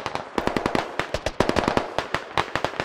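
Gunshots in the tactical shooter Squad: a loud, close, irregular run of sharp cracks, some in quick clusters and others spaced apart.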